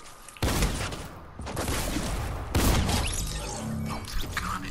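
Tactical shotgun firing in a video game, a few loud heavy blasts spaced apart with clattering and mechanical action sounds between them.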